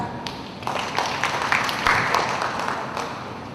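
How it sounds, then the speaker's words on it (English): A classroom claps for a student, a scattered patter of hand claps building to a steady ripple of moderate applause that holds for a few seconds. "Give her a clap."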